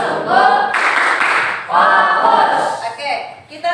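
An Indonesian school class claps in rhythm during the tepuk fokus chant, chanting words together between sharp, close bursts of clapping.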